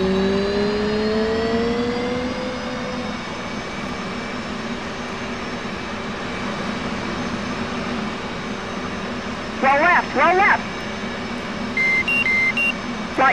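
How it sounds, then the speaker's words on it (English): F/A-18C Hornet jet engine in the DCS flight simulator, a steady loud whine and roar with rising tonal lines as it spools up, joined by brief electronic cockpit beeps near the end. "o som do motor é alto"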